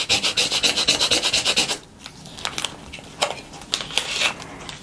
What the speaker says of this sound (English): We'll just burnish it down really well.